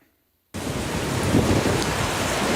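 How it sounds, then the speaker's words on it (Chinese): Rough surf from 7.4-metre waves pounds the shore at Lanyu during a strong typhoon with heavy wind and rain. Silence for half a second, then a dense, loud, continuous roar of crashing water and wind that stays steady to the end. "汹涌的海浪不断向岸边袭来，激起阵阵乱花。"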